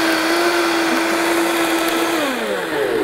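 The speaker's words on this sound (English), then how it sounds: "use a little more blending" A blender whirs loudly and close as it purees oats, eggs and bananas for an oatmeal bake, holding a steady high motor whine before the pitch sags slightly as the mixture thickens.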